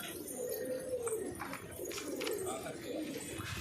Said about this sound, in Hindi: और आइए मैं आपको दिखाता हूँ कबूतर।